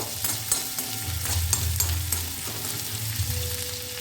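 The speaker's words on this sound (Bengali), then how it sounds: "এতে আমি গরম মশলাগুলো দিয়ে দিচ্ছি আর আদা কুচো সমস্ত কিছু দিয়ে দিলাম। এগুলো একটু নাড়াচাড়া করে নেব" Garam masala and chopped ginger fry in hot oil while being stirred, with a steady close sizzle and crackle broken by the scrape and clink of a spoon against the pan.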